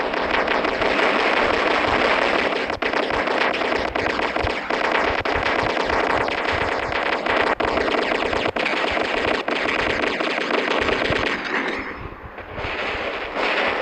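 Robot-mounted guns blazing in the mech game War Robots, a continuous loud stream of rapid automatic fire with steady machine-gun rattling throughout and faint gaps near the end.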